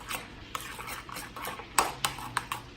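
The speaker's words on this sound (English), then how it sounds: "Then you just mix it around until it gets" Sauce for honey walnut shrimp stirred in a bowl with a utensil, giving soft swishing scrapes and a few sharp clinks against the sides, close and moderately quiet with no talking.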